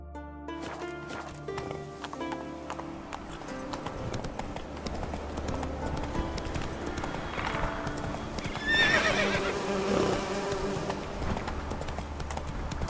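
Roach, the horse in The Witcher 3, gallops with fast, loud, rhythmic hoofbeats and lets out a whinny partway through, over a steady game soundscape with music.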